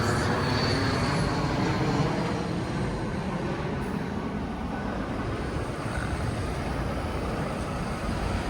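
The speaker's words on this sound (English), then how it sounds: "Can literally hear aeroplanes." Aeroplane roaring overhead near Hounslow, a loud continuous rumbling jet drone that fills the whole stretch and fades slightly, heard from a street by a bus stop.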